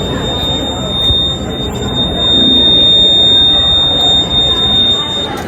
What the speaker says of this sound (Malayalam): എങ്ങാനും സ്പാർക്ക് ഉണ്ടായ ബോഡി ഒത്തും കത്തുകയാണെങ്കിൽ ഈ ഫയർ ബ്രിഗേഡിന്റെ അലാറം അടിച്ച് നമ്മൾ അറിയിക്കും